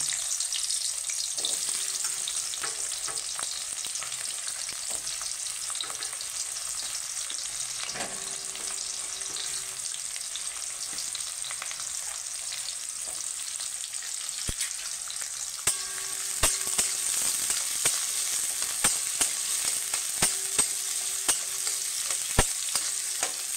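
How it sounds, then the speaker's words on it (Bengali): Diced onions fry in hot oil in a wok-style pan, village-style home cooking; a steady bright sizzle runs throughout with scattered crackles and spatters that grow denser and louder in the second half, no voices. "এখানে পেঁয়াজগুলো যেগুলো ডুমো ডুমো করে কাটা ছিল সেই পেঁয়াজটা আমি ভেজে নেব।"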